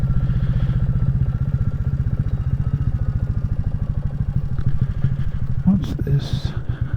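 A Royal Enfield Classic 350 thumps steadily through country lanes, its close single-cylinder beat loud and even throughout, with a brief voice and a short clatter near the end.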